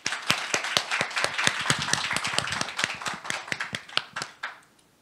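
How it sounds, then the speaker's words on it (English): A conference audience at a leadership event in Seoul applauds to welcome a speaker: a burst of dense, close clapping that holds steady for about four seconds, then thins out and fades to silence. "Please welcome him with a warm round of applause."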